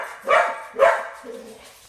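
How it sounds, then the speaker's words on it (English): A dog gives two sharp, close barks in quick succession, then a softer, trailing whine-like sound. "I think he's barking."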